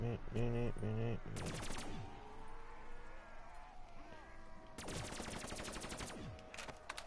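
Rapid automatic gunfire rattles in Black Ops 3 Zombies on the Der Eisendrache map, with two long bursts of bright shots alongside game music and effects, and no voices talk over them.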